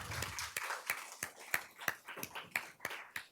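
An audience at an academic event claps for poster presenters in a small, sparse round of applause, with individual claps clearly spaced and fairly close.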